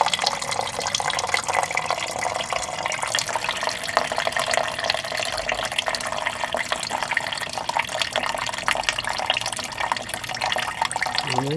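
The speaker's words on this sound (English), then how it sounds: "That's pretty much just straight water right there." Water drains out of a minibike engine, pouring and gurgling in a continuous stream, splashing noisily throughout without pause.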